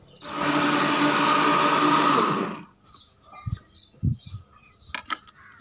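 Blender whirring through banana and milk for a juice, a loud steady roar for about two and a half seconds before it shuts off, followed by scattered light clinks and knocks.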